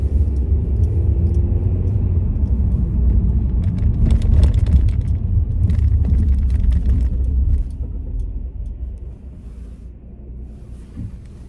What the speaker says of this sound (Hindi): तो अभी हम ट्रैफिक में बैठे हैं इधर रेड लाइट है